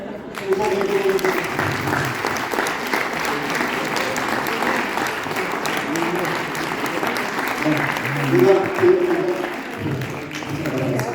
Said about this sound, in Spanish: Iba a pedir un aplauso para Estefano, por supuesto.